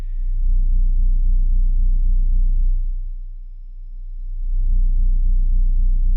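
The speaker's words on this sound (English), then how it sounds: "I'm going to play the 30 hertz test tone" A very deep, steady 30 Hz test tone from a Polk Audio HTS12 subwoofer hums loudly, fades partway down for a moment, then swells back up, with a faint buzzing rattle from the room's walls riding on it.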